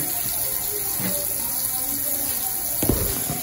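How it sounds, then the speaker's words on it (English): Hot water runs steadily from a bathroom tap in Arizona, a continuous close hiss and splash lasting throughout, with a brief louder splash near the end. "We turn on the hot water"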